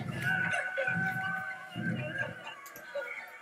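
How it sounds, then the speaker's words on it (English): A crowd of chickens clucks in a scene from the game Totally Accurate Battle Simulator, with soft, low, repeated bursts over a steady synthetic background tone. "There's so many chickens!"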